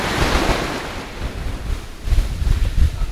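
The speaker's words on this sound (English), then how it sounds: "Over here is uh, the waves." Ocean surf breaking on a beach at Narragansett, Rhode Island: a loud, continuous wash of waves with heavy wind buffeting the microphone, a fresh surge rolling in near the end.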